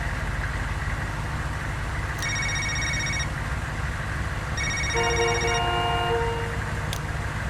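A telephone in the Knee Deep video game rings in two separate bursts of electronic trilling over a constant low idling engine hum, fairly close, with a few sharp clicks.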